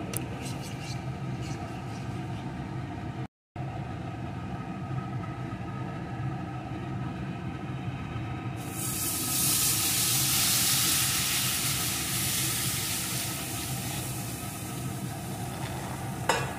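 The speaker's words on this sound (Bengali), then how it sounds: "এখন এর ভিতরে আমি দুধটাকে ঢেলে দেব।" Milk poured into hot caramelized sugar for mishti doi sets off a sudden broad, loud steamy hiss that swells and holds after a steady background sizzle and stirring.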